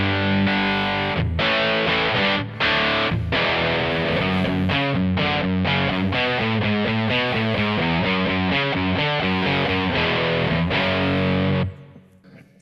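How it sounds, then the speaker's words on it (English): Electric guitar played through an MXR Distortion Plus pedal on a Kemper Profiler rings out loud and alone, with bright, crunchy chords and single notes in a rhythmic riff before the final chord cuts off near the end. "But when you kick in the Distortion Plus,"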